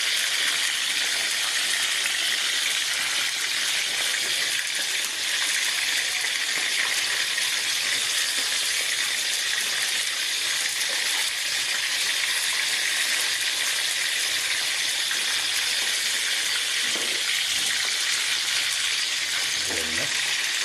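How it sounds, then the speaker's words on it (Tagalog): Steady, loud sizzling of chicken frying in hot oil, a continuous crackling hiss lasting throughout with occasional faint stirring sounds. "Ganyan po ako pag nagpiprito ng manok"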